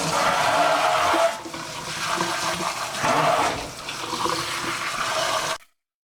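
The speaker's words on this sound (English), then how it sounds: "I take hot water, the same like hottest temperature I can get, and I rinse all the conditioner out" Hot water from a tap rinses conditioner out of a doll's hair, a loud close gushing and splashing that changes with the hair's movement and then stops abruptly.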